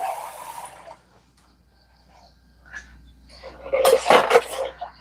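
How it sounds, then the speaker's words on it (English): Tap water runs briefly as a hand is rinsed of sourdough sandwich bread dough in a home kitchen: a short hiss at the start, a quiet pause, then louder splashing and clattering near the end. "Just rinse my hand to get rid of the excess."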